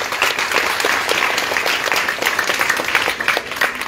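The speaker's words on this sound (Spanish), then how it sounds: "Vamos a darle un fuerte aplauso primero a las dos empresas." Audience applause at an outdoor event with food, steady loud clapping from a crowd sustained throughout without a break.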